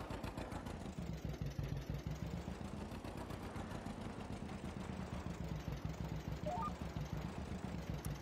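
A tractor engine in Farming Simulator 22 runs at a steady, throbbing mid-range idle with a fast, regular pulse that holds even for several seconds. No talk is heard over it.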